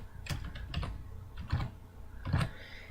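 Fingers typing on a computer keyboard at a desk, tapping out three short bursts of close, crisp key clicks with brief pauses between them.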